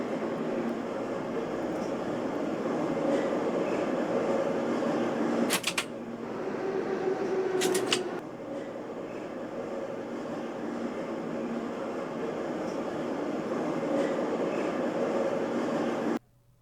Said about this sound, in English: the tutorial to the older train